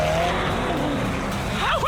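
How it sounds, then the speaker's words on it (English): A twin-turbocharged V8 carbon-fiber supercar drives fast. Its engine hums steadily close by, and a tire squeal chirps near the end. "The reason this car is one of the fastest on the planet is because of its twin turbocharged V8 engine"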